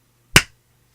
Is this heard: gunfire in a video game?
no